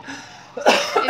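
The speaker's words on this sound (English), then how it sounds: "I don't want to cough on it." A single short cough, close and fairly loud, after a moment of quiet background.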